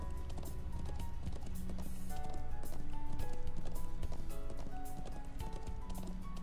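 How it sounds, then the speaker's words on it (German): Rapid, rhythmic hoofbeats of a galloping horse in the video game Trails of Cold Steel III, continuous throughout, layered over dense background music and game sounds. "Obwohl das Pferd schön schnell ist"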